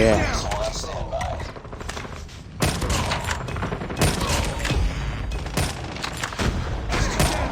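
Rapid bursts of Call of Duty gunfire crackle repeatedly, sharp automatic volleys spaced a second or two apart over a busy game soundscape.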